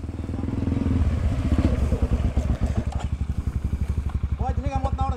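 A Honda CRF 250 dirt bike engine runs nearby after crossing a flooded street, its rapid, lumpy idle chugging loudly and then settling into a steady pulsing rhythm, with voices talking over it.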